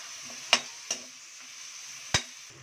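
Onions and salt sautéing in oil for a dry fish thokku, a soft steady sizzle broken by three sharp spoon taps against the pan.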